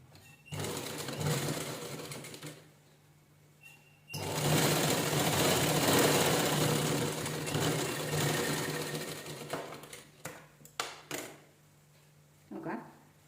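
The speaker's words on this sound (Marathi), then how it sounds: "असं उभं स्टिच करून घ्यायचं एकसारखं" A sewing machine stitches the seams of a cushion cover made from blouse fabric pieces, running in a few short bursts and then one long, loud, steady run. It stops with a few faint handling clicks and a brief sound near the end.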